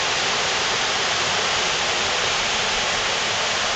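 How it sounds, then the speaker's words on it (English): Loud, continuous roar of the Fall of Songs waterfall, dense and unchanging hiss of rushing water filling the whole clip, no talking. "Look at that waterfall. That's a nice one."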